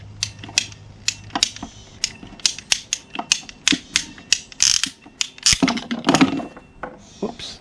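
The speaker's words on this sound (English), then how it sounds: "you could just take your pipe cutters and cut this off" Ratcheting pipe cutters biting through plastic hoop pipe for a DIY greenhouse, a close series of sharp clicking ratchet strokes in an uneven rhythm, bunching into faster creaking clicks toward the end.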